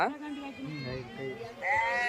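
Sheep bleat at a livestock market where animals are being traded, a few wavering, nasal cries rising over steady nearby conversation.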